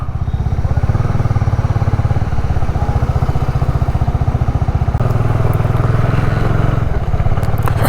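A motorcycle engine putters steadily and loudly up close as the bike rides a wet road in light drizzle in Nepal, a rapid regular pulsing throb throughout with a brief shift in tone midway.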